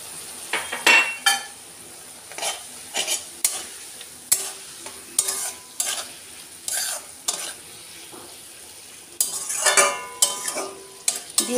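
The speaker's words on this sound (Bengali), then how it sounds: "মশলাটা ভাজা ভাজা হওয়া পর্যন্ত অপেক্ষা করবো" Spices and grated ginger fry in oil in a pan for a Bengali fish curry with cauliflower, potato and onion stalks, with steady soft sizzling broken by repeated scraping, stirring strokes and light clinks of a utensil against the pan, close and alone.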